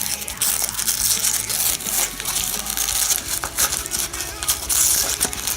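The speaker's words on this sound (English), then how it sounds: "So peel it open." Drago Cotton vape wicking cotton package being peeled open, giving dense crinkly plastic rustling and tearing that runs nearly continuously, close and fairly loud.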